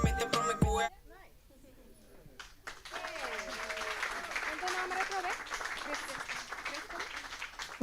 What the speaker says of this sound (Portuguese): Fuerte aplauso para Kristen também.